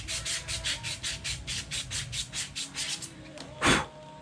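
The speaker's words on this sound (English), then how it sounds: "you are rubbing sandpaper on metal" Sandpaper rubbed on a metal engine part in fast, even back-and-forth strokes, a steady rasping pulse about four per second, ending with one louder, harsher scrape, close up and alone.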